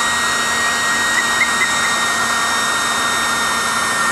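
A Kolibri FunJet miniature turbine jet engine, run on kerosene, gives a steady high-pitched whine with a constant airy roar, loud and close. A few faint chirps sit on top of it.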